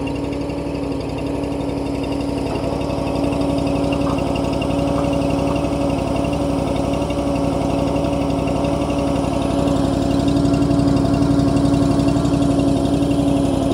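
EFI engine on a Wolfe Ridge 17VS-C vertical log splitter with attached conveyor, running at a steady idle-like drone with a constant low hum, close and even for the whole stretch, no talking.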